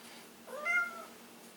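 A house cat lets out a single short meow for attention during Glock 19 cleaning. The meow is rising then falling, quiet and close, with no talking around it.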